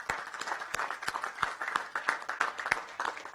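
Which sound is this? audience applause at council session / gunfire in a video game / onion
audience applause at council session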